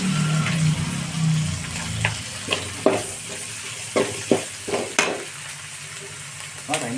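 Chopped tomatoes fry in hot oil for fish biryani, a dense close sizzle with a low hum early on and a handful of sharp scraping stirs and clinks against the pot, with no talk.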